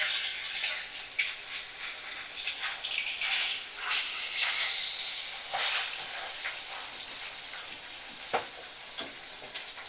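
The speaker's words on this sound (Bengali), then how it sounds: "মাছটা একটু উল্টে পাল্টে দিই।" Fish fries in a pan on a home kitchen stove, giving a steady bright sizzle with louder hissing flare-ups and scraping as the pieces are turned over.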